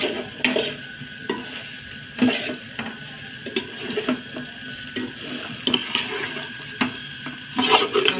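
Chilli and spices being stirred in a pan for a UP-style matar nimona with potatoes, giving repeated scraping and clinking strokes over a steady low sizzle, close and moderately loud with no talking.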